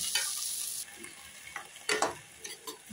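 Rice, carrots and green peas fry in a pan with cardamom, cloves, bay leaves and garam masala, giving a soft sizzle broken by several close, scraping stirs of a spatula, with no talk.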